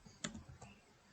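Keyboard keys tapped a few times on a computer while working in a Microsoft Excel spreadsheet, faint and close, a couple of distinct clicks then quiet.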